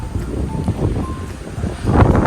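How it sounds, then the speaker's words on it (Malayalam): Strong wind roars and buffets the microphone at Courtallam Palace, a steady, loud low rumble that swells toward the end. "ഈ സ്ഥലം നല്ല കാറ്റുണ്ട് കേട്ടോ"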